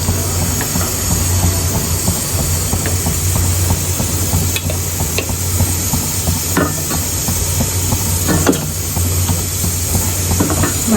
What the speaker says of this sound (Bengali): আপনারা দেখতেই পাচ্ছেন তরকারির বলক চলে এসেছে